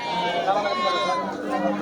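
Goats bleating at a busy goat market amid bargaining, a short tremulous bleat close by, overlapping with people talking in the background.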